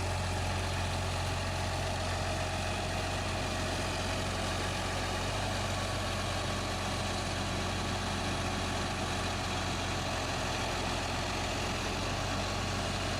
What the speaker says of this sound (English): We are driving the tractor relatively slow to help eliminate any slippage of the front wheels